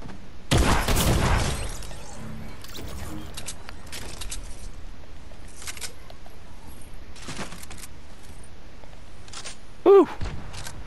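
A shotgun goes off in a video game: one loud, booming blast near the start that rings out and decays. Faint clicks and small noises follow in a quiet stretch.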